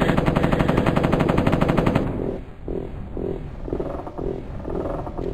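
Rapid M60 machine gun fire from Mortal Coil: Adrenalin Intelligence (1995), a dense loud burst for two seconds, then stops, leaving lower rumbling game ambience with periodic thumps.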